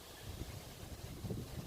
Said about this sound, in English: it's a bit windy, so you might hear a lot of background noise